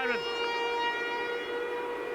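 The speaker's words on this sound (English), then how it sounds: "There's the half-time siren." A stadium's half-time siren sounds during a 1997 Great Britain v Australia rugby league test. One long, loud, wailing tone holds steady after a brief rising start, with faint crowd noise underneath.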